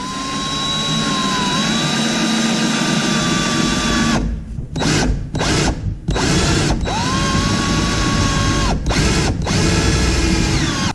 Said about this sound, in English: I'm actually going to drill a pilot hole.